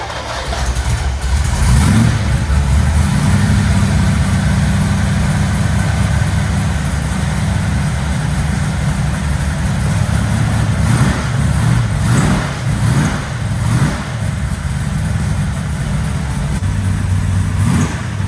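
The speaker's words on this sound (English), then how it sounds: "The big block in Mark's 55 fired right up, and after it got a little heat in it, sat there and idled like it had been running just yesterday." A big block V8 in a 1955 car fires up and settles into a loud, steady idle close by, with a few throttle blips rising and falling near the end.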